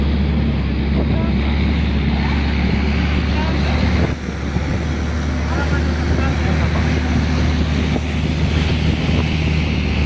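Steady rumble of a boat pushing through water near Krabi, heard from the bow, with constant wind buffeting the microphone and splashing waves throughout.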